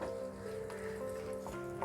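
A splash of water hits spice paste frying with browned fried onions for prawn biryani, and it gives a quiet, brief, steady sizzle with a faint tonal hum underneath and no voices.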